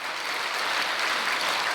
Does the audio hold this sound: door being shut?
no